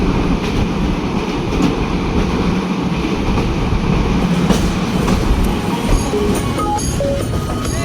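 The Sundarban Express, running from Dhaka to Khulna by way of the Padma Bridge, rumbles loudly and steadily on its rails, with rhythmic wheel clatter and occasional faint squeals heard from on board.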